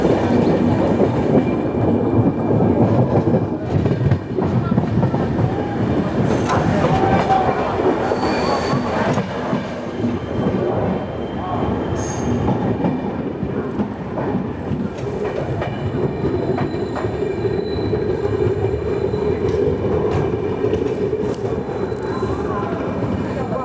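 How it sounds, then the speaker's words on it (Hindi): Capital Express passenger train pulling into New Bongaigaon Junction, heard from on board as loud continuous wheel rumble and clatter with occasional squeals, and voices murmuring underneath. "अभी हमारी ट्रेन पहुंचने जा रही है न्यू बोंगाईगांव जंक्शन"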